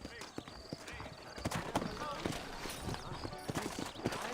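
Horse hooves clip-clopping in Red Dead Redemption, a steady rhythmic trot close by, with a horse whinny and a voice talking over the hoofbeats.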